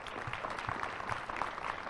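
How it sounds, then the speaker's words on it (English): An audience at a live community event for the Hawley bell's semiquincentennial breaks into steady applause, dense clapping that holds at a moderate level for the whole moment. "Let's give them a round of applause"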